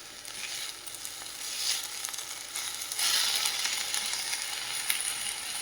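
Fenugreek leaves (methi) fry for chutney in a pan, giving a close, steady sizzle that swells and fades in waves, with faint stirring scrapes and no voices.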